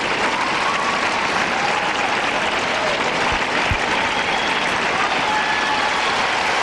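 A tennis crowd at Arthur Ashe Stadium during a 2005 US Open second-round-of-32 women's match applauds loudly and continuously, a dense sustained wash of clapping that never lets up.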